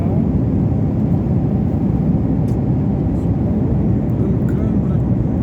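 A steady, loud engine drone fills an airplane cabin as the aircraft comes in to land, an unbroken roar with no pauses.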